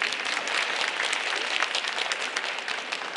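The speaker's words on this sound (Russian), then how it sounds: "бурные аплодисменты для них." A crowd at the opening of the 2015 Infokot cat show applauds the cat breeders, a thick, even roar of clapping that holds steady for a few seconds without speech.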